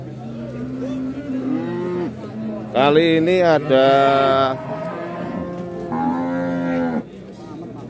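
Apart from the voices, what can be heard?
cattle mooing at a livestock market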